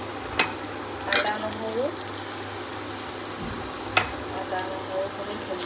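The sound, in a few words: ginger, garlic, chili and tomato frying in a pot for egg biryani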